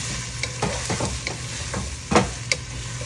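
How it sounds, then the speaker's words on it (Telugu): Onions frying in a pan as they are mixed in, with a steady near sizzle and a few scraping stirs of a utensil against the pan, no voices. "సో ఇప్పుడైతే ఆనియన్ కూడా వేసేస్తున్నాం. వేసేసాం. ఇలా ఒకసారి మిక్స్ చేయాలన్నమాట మొత్తం."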